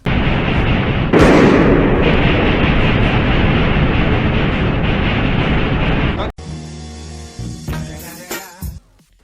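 A tank cannon fires in the Roblox game Jailbreak, giving one loud, heavy boom that rolls on as a sustained rumble for several seconds before cutting to quieter game sounds.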